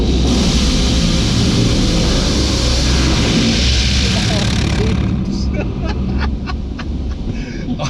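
High-pressure turbo tip jets in an automatic car wash blast loudly as a dense hissing roar close to the car, easing later into intermittent spray bursts, with voices talking over it.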